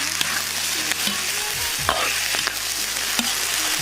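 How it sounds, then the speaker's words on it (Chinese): Chicken pieces stir-fry in hot oil with caramelized rock sugar, a loud continuous sizzle punctuated by periodic clanks and scrapes of the spatula against the wok. "炒鸡肉。"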